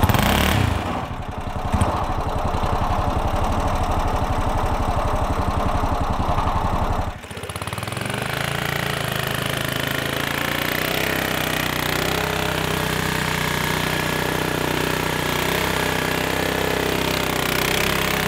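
A built 420cc golf cart engine revs hard with a loud, rapid chugging roar, then drops and settles into a higher, steady drone, close and continuous with no talk.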